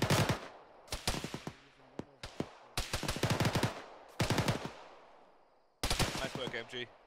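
Machine gun fire in the military video game Arma: loud bursts of rapid automatic shots in five or six groups separated by short pauses, each burst ringing with a sharp crack and echo.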